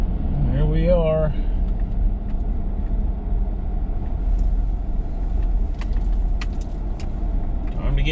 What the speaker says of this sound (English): We're gonna go over there and get the truck warmed up.